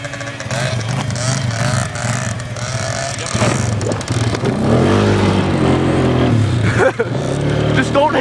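A dirtbike engine revs hard and holds a loud, continuous drone that surges and climbs in pitch partway through, up close, with voices shouting over it.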